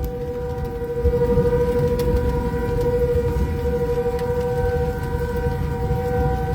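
A distant tornado warning siren in New Albany, Indiana wails steadily over outdoor rumble and background noise, a continuous tone heard from afar with no talking.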